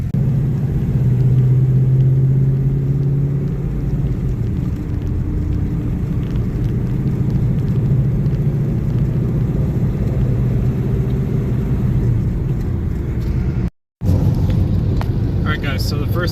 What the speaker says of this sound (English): So he wants me to get the car going and let the ECU relearn how to drive again.